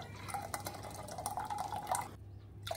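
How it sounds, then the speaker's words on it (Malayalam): Spiced buttermilk (sambharam) is poured into a pot, making a close, continuous liquid splashing and trickling for about two seconds that then stops abruptly. "ഇതാ ഒരു പോട്ടിനകത്തോട്ട് പകർന്നൊഴിക്കുകയാണ്."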